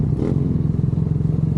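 A motorcycle engine with a new sprocket runs steadily on a test run, a close, continuous throbbing note at night with some clatter.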